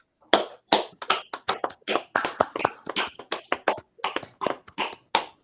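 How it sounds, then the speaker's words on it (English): A small audience at an evening symposium claps for an ambassador, crisp separate hand claps in a loose irregular rhythm, close and clear against silence between them. "Let's give him a big round of applause."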